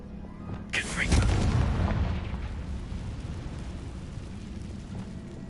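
A Confringo fire blast spell erupts in Hogwarts Legacy: one sharp, loud burst that swells into a rumbling boom and slowly decays, with a voice speaking near the start.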